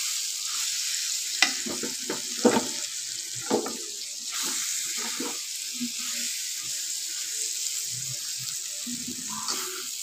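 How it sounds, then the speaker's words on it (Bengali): Boiled taki fish being stirred and fried in a pan, with a soft steady sizzle and occasional scraping clinks from a spatula, close by and with no voice present. "এটাকে ভালো করে নাড়াচাড়া করে"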